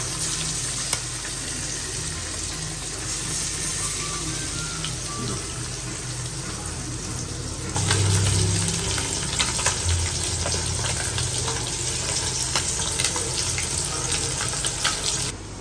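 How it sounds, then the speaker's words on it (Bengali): Fish frying in a pan, a steady hiss and sizzle that grows louder partway through, with faint clinks and no talk. "এই প্রথমবার আমি নিজের হাতে ভাজতেছি এই মাছ"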